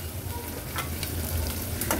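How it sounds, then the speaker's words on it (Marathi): A ghee tempering of mustard seeds, chillies, garlic and asafoetida sizzles steadily in a pan, with a few quick spatula scrapes over the continuous frying hiss. "हिंग घातल्यावर पुन्हा ही फोडणी मी व्यवस्थित परतून घेते"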